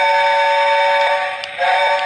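Toy Lionel Hogwarts Express Lion Chief locomotive sounds a steady electronic steam whistle, a sustained multi-tone chord held for about two seconds, loud and close.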